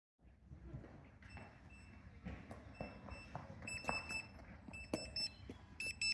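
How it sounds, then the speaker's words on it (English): A restaurant pager buzzer sounds in repeated short high-pitched pulses amid busy background noise, growing more frequent toward the end. "Well, buzzer's going."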